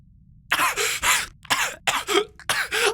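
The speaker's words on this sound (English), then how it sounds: "The princess suddenly and violently coughed." A person coughs hard several times in quick bursts, harsh and close, with short gasping pauses between.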